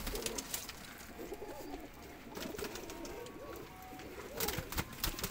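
Teddy pigeons coo at a breeder's loft in soft, repeated throaty murmurs over a busy background, with occasional rustles and taps nearby.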